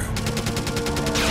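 Rapid gunfire in the video game Make Her Quake, a steady rattling burst of about a dozen evenly spaced shots, loud and close, with no talking.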